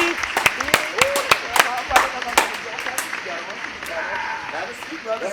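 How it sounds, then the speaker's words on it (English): Studio audience clapping for a guest arriving on a hip-hop radio show, a dense patter of hand claps with some sharp individual smacks, voices and cheers mixed in underneath. "please give a wonderful round of applause to the one and only Mr. Joe Clair"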